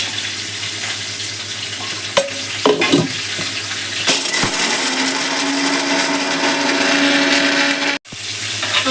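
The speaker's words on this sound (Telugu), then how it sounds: "ఇప్పుడు మనం ఇందులోకి ముందుగా పల్లీలు అండ్ నువ్వులు కలిపి ముందుగా మిక్సీ వేసి" A mixer grinder powders peanuts and sesame seeds, first with a few knocks and clatters, then a loud, steady whirring grind that runs for about four seconds before cutting off abruptly.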